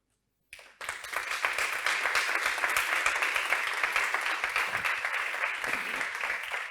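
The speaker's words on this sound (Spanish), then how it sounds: "Para los que estáis en casa y estáis oyendo aplausos" Sudden burst of audience applause after a talk at a retail conference, starting from silence and holding as dense, steady, close clapping for several seconds.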